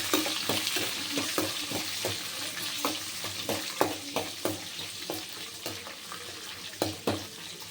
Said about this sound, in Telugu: ఆనియన్స్, వెల్లుల్లి బాగా వేసుకోవాలి.